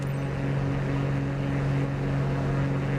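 Interceptor aircraft engines spooling at takeoff in Microsoft Flight Simulator 2024, a steady loud drone with a strong constant hum, unbroken throughout, no talking.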